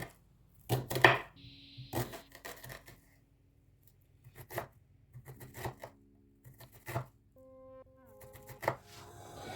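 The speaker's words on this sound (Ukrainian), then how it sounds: "почистили велику цибулю, і ми її повинні нарізати на дрібні кубики." A knife chops a large onion into small cubes on a cutting board in irregular clusters of quick, close taps, separated by brief pauses; no one speaks.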